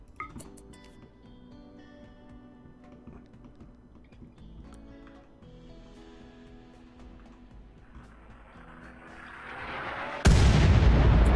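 Mortar firing in the RimWorld video game during a desert battle against mechs, quiet clicking and game noise building up to one loud, sudden blast near the end that roars on to the close.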